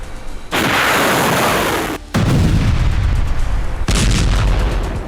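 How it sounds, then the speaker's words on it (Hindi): Missile strikes and bomb blasts on a house in Tehran come as loud, close, roaring bursts, one after another with short gaps between them. "तेहरान में हानिया के घर पर इजराइल ने मिसाइलों से बम बरसाए।"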